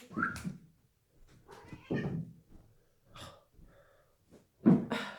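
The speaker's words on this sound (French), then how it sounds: "Intervention du chat obligatoire dans le podcast, tout va bien." A cat meows several times at close range during a podcast recording, a string of short vocal calls with breathy snorts between them and quiet gaps, the last call loudest.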